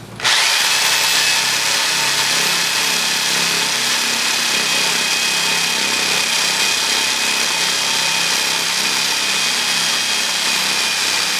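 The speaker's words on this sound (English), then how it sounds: "take care not to spall the masonry by applying excessive pressure to the drill" A power drill whines loudly and continuously at high speed, grinding steadily into masonry without pause.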